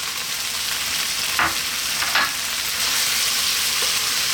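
Cooked yellow toor dal fries on high heat in a pan, giving a loud, steady, dense sizzle broken by two brief stirring scrapes, with no voices.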